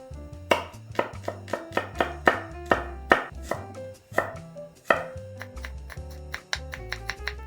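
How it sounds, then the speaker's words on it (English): Garlic and ginger chopped finely with a knife on a cutting board, a run of crisp, close rhythmic chops, quick and fairly even, with no talking. "First, finely chop garlic and ginger."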